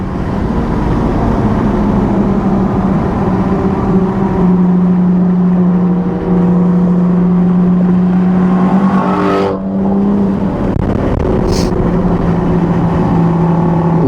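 A Toyota A90 Supra runs fast down the straight at Thunderhill, its engine a steady loud drone that holds high revs, with a brief lift and shift midway before pulling on again.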